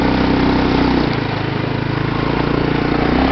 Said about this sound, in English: Here we go, DuneBuggy ride to my track.